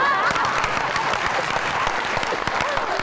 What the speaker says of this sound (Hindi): ये कॉन्फिडेंस की ताली है।